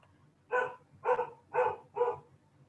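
A voice imitating a dog gives four evenly spaced, woof-like barks, each about half a second long, close and fairly loud over a quiet background.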